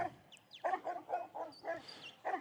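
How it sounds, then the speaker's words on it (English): A dog at an outdoor rural games event gives a rapid run of sharp, yelping barks, about six close, loud bursts in quick rhythm. "The aggressive bark."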